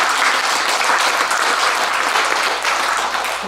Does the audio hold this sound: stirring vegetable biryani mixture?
no